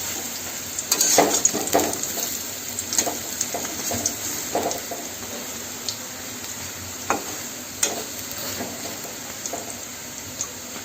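Chana dal fritters frying in hot oil as they are gently turned over, a steady close sizzle broken by scattered crackles and soft spatula clicks.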